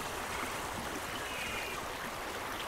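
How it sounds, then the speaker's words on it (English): A waterfall in the video game A Township Tale gives a steady, soft rushing of water, a faint constant wash heard alone without breaks. "I'm going to head over here for just a second because I hear waterfall"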